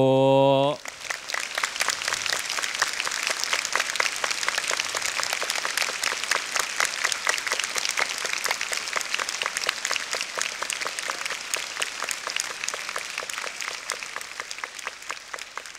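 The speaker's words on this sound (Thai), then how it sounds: "ขอเสียงปรบมือดังๆ ด้วย" A large audience breaks into sustained, dense applause right after a brief spoken phrase, the clapping continuing steadily and loudly to the end.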